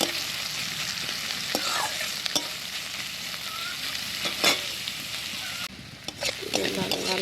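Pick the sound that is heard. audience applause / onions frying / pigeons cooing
onions frying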